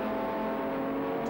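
A 1984 touring car races at Sandown, the engine a steady loud high-revving whine held throughout a brief moment.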